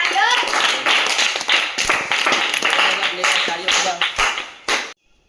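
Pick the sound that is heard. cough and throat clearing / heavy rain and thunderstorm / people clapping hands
people clapping hands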